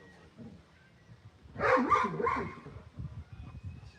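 A dog barks during play, a short burst of a few yappy barks in the middle of a faint, murmuring room background.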